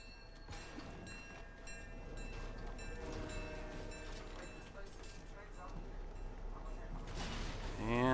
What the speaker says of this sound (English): And the train is going by.